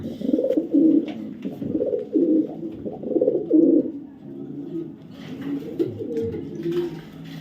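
A pair of top-quality racing pigeons coo in repeated low, throaty phrases, close and fairly loud, with soft rustling between calls.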